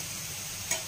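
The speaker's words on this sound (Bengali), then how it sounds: "না, পাস্তা বানাবো, সেই জন্য সবজিগুলো ভাজছি" Vegetables for pasta fry in a pan with a faint, steady sizzle and one brief tick near the end, with no voices.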